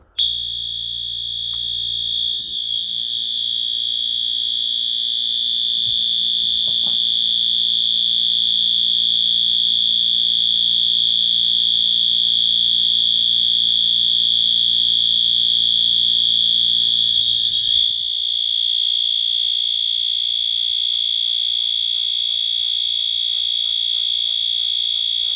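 A System Sensor, Wheelock or Simplex fire alarm sounding a loud, steady piercing electronic tone for the whole stretch, with low hum under it early on and a brief shift in the tone near the end.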